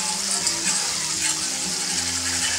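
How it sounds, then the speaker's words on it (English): Gravy mix gets whisked in a bowl with a quick, continuous rattling and scraping close to the mic, with no voices. "Whisk it around."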